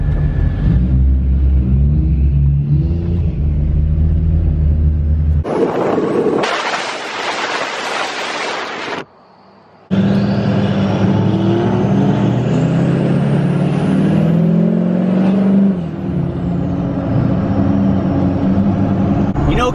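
A Duramax diesel truck with a locking rear end drives and accelerates, giving a loud, steady drone of engine and road noise with a short surge in the middle and a brief drop to near silence.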